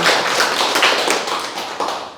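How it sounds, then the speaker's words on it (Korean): Applause from a seated audience at a Korean lecture on spiritual study, a dense, steady wash of many hands clapping close by that fades gradually toward the end. "박수 한번 쳐주세요"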